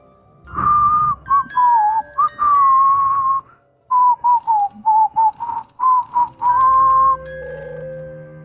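A person whistling a tune, clear pure tones in short phrases with brief gaps, close and loud, alone without speech.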